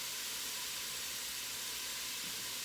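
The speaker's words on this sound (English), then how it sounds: "you can hear that sizzle. That's how you know it's nice and hot" Chopped celery and diced carrots sizzle in a hot soup pot for Italian wedding soup, a steady faint hiss of frying with no voices.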